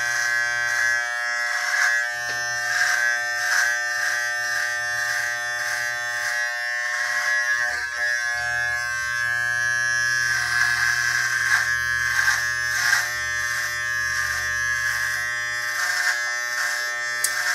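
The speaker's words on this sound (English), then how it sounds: "And I go back over with the clippers on that part of it too." Electric hair clippers shaving a head, a loud, close, continuous buzzing drone whose pitch and load shift as the blades pass over the scalp, with short breaks between passes.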